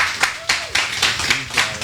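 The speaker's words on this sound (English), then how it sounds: "Give him a round of applause for that" A small audience at an interview event claps in loose, separate bursts of hand claps, close by and uneven in rhythm, a handful of hands rather than a full crowd, with no clear speech.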